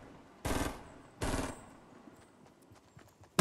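Two bursts of automatic gunfire in the video game Fortnite, each about a third of a second, followed by faint scattered clicks and small shots.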